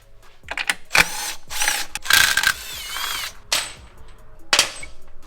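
A ratchet works on the transmission pan studs of a Ford F-150 in short, loud bursts of clicking and whirring, close up, separated by brief quiet gaps.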